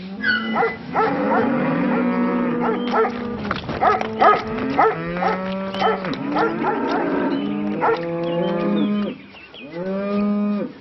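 Several cows mooing repeatedly in a farm setting, loud overlapping drawn-out lows close by with no speech, ending after a short pause with one more moo.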